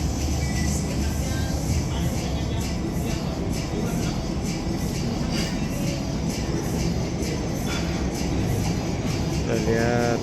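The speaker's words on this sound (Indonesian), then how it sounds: "Kita lihat kerap-kerip ada kereta lewat" A steady rumbling rush of an MRT train passing nearby at night in Blok M, Jakarta, with continuous broadband noise and faint clanking, and a brief squeal near the end.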